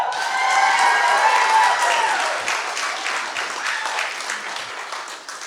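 Wedding guests at a reception applaud and cheer for the bride, a full roomful of clapping that swells early and then slowly tapers off, with no talk over it.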